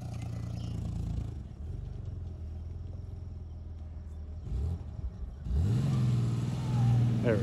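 A Chevy Impala engine revs hard while the car is being deliberately destroyed, its throaty mid-range roar rising and falling in surges close by, with a sharp climb in pitch toward the end.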